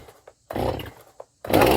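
A Stihl MS-271 chainsaw being pull-started with the choke on: repeated rough ripping bursts from the starter cord, each followed by a brief pause, loud and close, with no engine catching.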